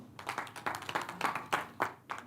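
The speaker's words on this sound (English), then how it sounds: "Round of applause for him" Applause for Richard after his talk at a meeting: a handful of distinct, close hand claps at an uneven rhythm, sparse rather than a full crowd.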